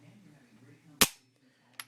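A single sharp dry-fire trigger click from an empty Mossberg 500 pump shotgun, loud and close, followed by a fainter second click as the trigger resets, with near silence around it.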